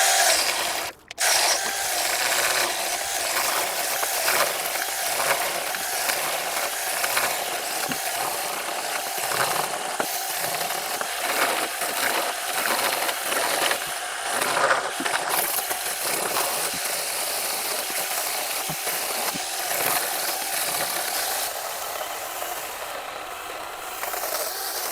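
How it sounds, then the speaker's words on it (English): A 6-inch, 21-volt battery mini chainsaw buzzes continuously while cutting wood, with a rattling, grinding texture for a long stretch, steady and fairly loud, no talking. "The upgraded NaTiddy 6-inch chainsaw, 21 volt, 2000 milliamp battery."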